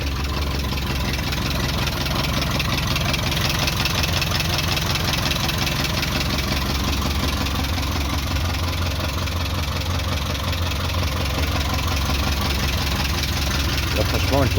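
A Talbot Horizon 1.1 petrol engine idles steadily, with an even low rumble and a regular pulse that holds for the whole stretch, heard nearby.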